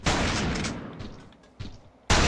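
Video game gunfire from The Thing, heavy booming shots with long decaying reverb, one blast opening, a softer hit midway and another loud burst at the end, fairly muffled overall.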